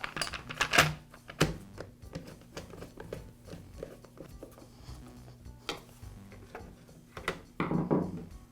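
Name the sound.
reinstalling Poulan chainsaw top cover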